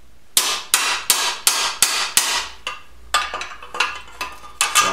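Hammer beating aluminum cans held on a vise, about a dozen sharp metallic strikes at a steady rhythm, loud and close, with brief ringing decays between blows.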